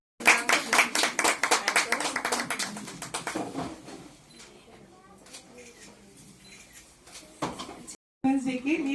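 Applause from an audience at an awards ceremony in Chandigarh, a dense burst of clapping that fades over several seconds, followed by a short second burst, with voices speaking over it.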